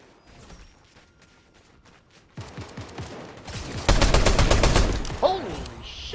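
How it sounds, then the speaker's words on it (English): Gunfire in the battle royale game Fortnite, starting with a few distant scattered shots, then building into loud rapid automatic bursts, fast rhythmic cracks that grow nearer and heavier toward the end. "what is all that shooting over on the other side over here?"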